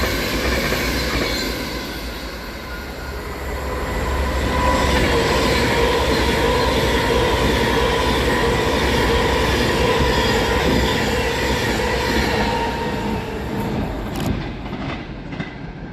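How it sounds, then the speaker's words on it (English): Class 390 electric trains pass through Crewe railway station, making a loud, sustained rumble with wheel and rail noise that swells, holds steady for many seconds and eases off near the end. "your final clip sees the passing of 390-0046 and 390-125"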